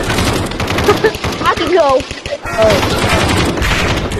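Rapid gunfire crackles through a VR shooter match in Aim XR, bursts of shots running almost continuously under excited voices talking over the action.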